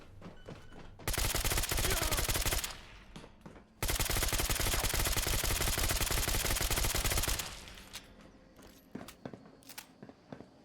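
Automatic gunfire in the game Fallout: London, two long, loud, sustained bursts separated by a short gap, then scattered single shots and thuds fading toward the end.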